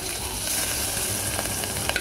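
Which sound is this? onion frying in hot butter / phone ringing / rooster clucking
onion frying in hot butter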